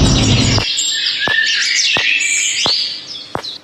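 A sparrow in an animated story chirps and twitters in a bright, continuous stream of high calls, with a few sharp ticks punctuating it after a short low rumble at the start.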